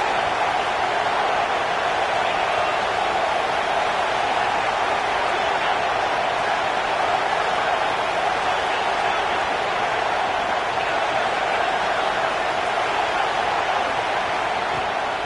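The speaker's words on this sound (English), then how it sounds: "This crowd trying to make life miserable for this offense." Stadium crowd noise from a college football video game, Georgia against LSU: a dense, unbroken roar of spectators holds at a steady loudness throughout, with no distinct pauses or swells.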